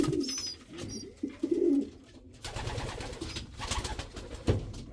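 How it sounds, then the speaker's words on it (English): Deep, soft cooing from a large pigeon, likely a cock bird, repeated in several short rolling phrases up close, with faint background rustle and higher chirps. "He's a fair lump of a pigeon too."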